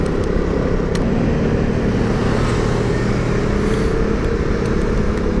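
A Ducati Supersport motorcycle engine idles close by with a steady, loud, even rumble and a low throbbing drone that holds constant throughout.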